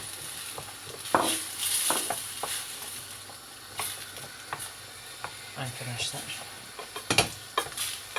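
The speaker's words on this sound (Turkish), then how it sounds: "Biraz da bu şekilde kavuruyoruz, karıştırıyoruz." Utensil scraping and stirring through diced potatoes sautéing in olive oil in a pot, irregular clinks and scrapes over a steady frying hiss, with a brief spoken word.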